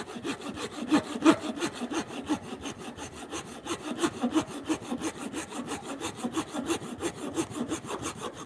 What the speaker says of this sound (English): I'll saw right down to it.